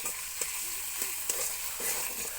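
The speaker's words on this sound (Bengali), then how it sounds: "টমেটো কুচি দিয়ে বেশ কিছুক্ষণ মশলাটাকে কষিয়ে নিতে হবে।" Spice paste being fried with chopped tomatoes for a banana-flower curry, a steady close sizzle with several soft scrapes of stirring spaced through it.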